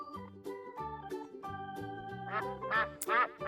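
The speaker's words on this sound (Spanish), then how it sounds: "Adivinaste, es el pato." A duck quacks repeatedly at close range, the rhythmic nasal calls growing louder and harsher toward the end, alone with no talk.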